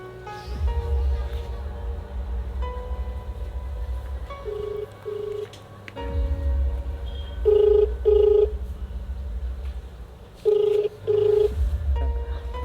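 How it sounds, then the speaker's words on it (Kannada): A telephone call ringing, heard as a repeating electronic ring tone in short paired bursts against a steady low hum. Brief gaps separate the bursts, and the ringing carries on through most of the stretch. "ಫೋನ್ ಮಾಡ್ತೀನಿ ತಡಿ"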